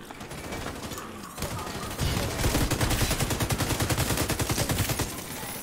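Rapid automatic gunfire in a survival shooter game, a fast regular burst of loud close shots that starts after a quieter stretch and keeps hammering steadily to the end.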